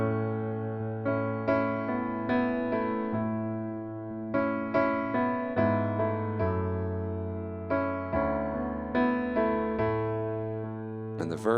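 Solo piano plays a song in full, bass notes in the left hand under right-hand chords, each struck chord decaying in a steady, unhurried rhythm.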